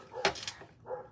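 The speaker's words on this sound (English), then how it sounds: "Sorry, y'all, for his barking." A male dog barks out back in an indoor craft setting, giving a couple of sharp, fairly faint barks followed by a softer yip or whine, with no talk over it.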